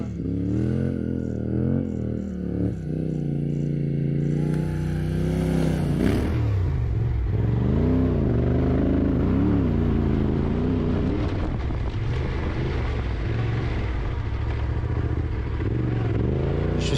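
Rally motorcycles racing in the Africa Eco Race, engines revving and roaring continuously across the stretch, loud and close with pitch rising and falling as bikes accelerate past, no voices.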